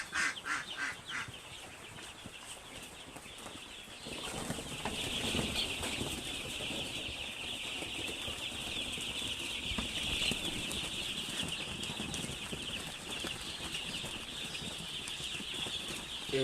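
Farm chicks shuffle about and flap their wings in a pen, a steady rustling flutter with occasional soft clucks, fairly quiet and without talk.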